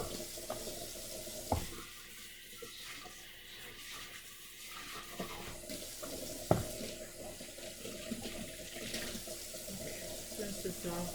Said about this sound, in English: Throw all this in the sink.